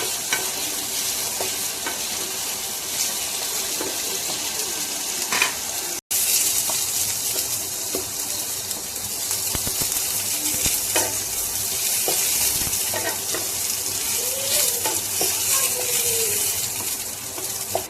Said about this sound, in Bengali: তারপরে যে গাজর আর আলুটাকেও ভালোভাবে ভেজে নেবো